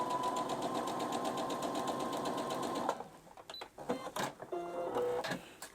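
A sewing machine stitches two pieces of fabric together at a 5.5 stitch width, running steadily and close up for about three seconds, then slowing into short bursts and a few clicks.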